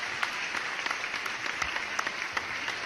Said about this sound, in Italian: Siete bravissimi, applausi, via.